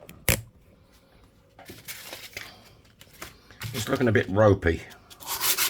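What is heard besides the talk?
sanding edge of Romanian 1 leu coin ring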